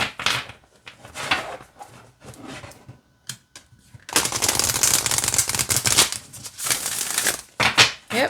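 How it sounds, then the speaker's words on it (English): A large deck of oracle cards is shuffled side by side. First come soft, scattered handling sounds, then a long, loud, close riffling burst that stops and starts again briefly, with no talking. "I like to shuffle my bigger decks side by side like this"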